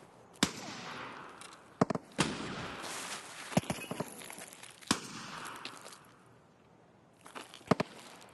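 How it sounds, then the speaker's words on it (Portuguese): Gunshots ring out in the video game Escape from Tarkov: about eight sharp, separate cracks come at irregular intervals, some in quick pairs, over a low, quiet background. "Dá um tiro pra distrair ele, cara."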